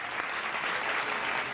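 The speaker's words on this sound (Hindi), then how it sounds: "आप लोग के लिए ताली" An audience at a Hindi comedy poetry show gives a dense, steady round of clapping that holds at an even level from start to end, with no voices standing out.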